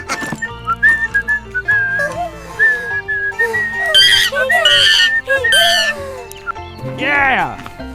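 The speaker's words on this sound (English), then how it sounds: "Whistling." Cartoonish whistled melody lines from the Monkey Tractor farm video game rise and fall over a soft synth backing, with animal-like chirps and clucks mixed in, loud and close.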